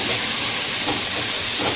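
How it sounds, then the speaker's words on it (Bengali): Cut potatoes frying in a pan with a pinch of turmeric, a dense, loud, steady hiss of hot oil with no pauses. "এবার ভালো করে আমি আলুটা ভেজে নেব।"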